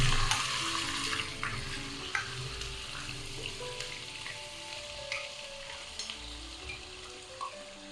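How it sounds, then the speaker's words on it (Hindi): Marinated mutton keema fries in hot oil with curry leaf, a bright steady sizzle with occasional stirring scrapes and soft pops, close and continuous. "ऑयल में डाल देंगे एक कड़ी पत्ता, फिर इसमें डाल देंगे मैरिनेट किया हुआ कीमा"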